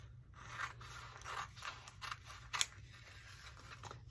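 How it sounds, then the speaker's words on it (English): Scissors snipping through paper to cut out circles for a quilt, quick irregular cuts, close by and fairly quiet, with a low steady hum underneath. "I'm just going to take my scissors and I'm going to cut those apart"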